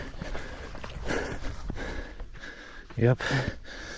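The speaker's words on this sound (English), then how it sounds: "still breathing hard." A trail runner breathes hard in quick, close gasps during a Ragnar trail race in Zion, with a short spoken word over the panting near the end.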